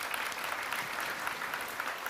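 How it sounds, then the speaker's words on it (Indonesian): Applause from a religious gathering audience honoring a hospital's team, steady dense clapping throughout, moderately distant and evenly sustained with no voices on top. "Tepuk tangan buat Syuhada Haji"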